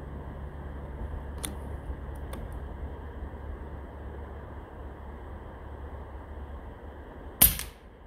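An Airforce Talon SS air rifle, running a 4,500 PSI carbon fiber tank, fires one sharp, loud crack near the end. Two faint clicks come earlier over a steady background hum.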